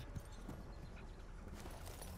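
A horse's hooves clip-clop steadily at a walking pace in the video game Warframe, faint and continuous over soft ambient game sound.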